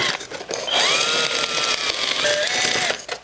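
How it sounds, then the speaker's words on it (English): A power drill bores a hole through styrofoam for a chandelier cake, its motor whining loud and steady close by for about three seconds with shifting pitch as the bit cuts. "Now we have to make a hole in the styrofoam"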